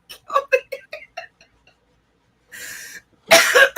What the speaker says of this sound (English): I have this lingering cough from a sinus infection.